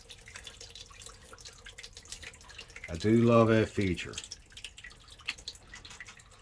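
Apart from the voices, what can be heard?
water draining from a boat engine drain knob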